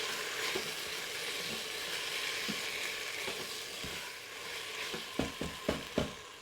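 Lamb frying with tomato paste in an Instant Pot, a soft continuous sizzle with a cluster of sharp stirring knocks near the end, fairly faint and without voices.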